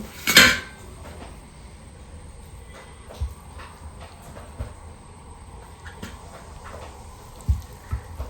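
Dishes clatter as food is put into a bowl at home: one loud metallic clank opens, followed by scattered lighter clinks and knocks of utensils and plates, with no talking.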